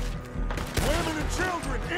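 Gunfire in the Red Dead Redemption 2 video game during a fight with mine raiders: a sharp shot near the middle over steady game ambience and background voices.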